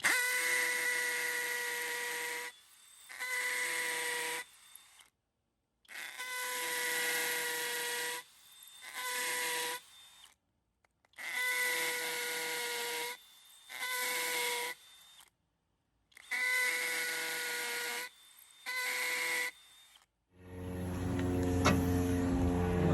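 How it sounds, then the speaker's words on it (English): A hammer drill bores into a concrete slab at least 4 inches thick in repeated loud bursts of a few seconds each, separated by short pauses, with a rattling clatter at the end. "That's typical for a hammer drill."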